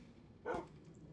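A single short dog bark from a pet dog in Minecraft, faint against a low background hum, with nothing else around it.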